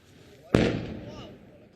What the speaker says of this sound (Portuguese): O barulho da explosão foi provocado por foguetes lançados pelo Hezbollah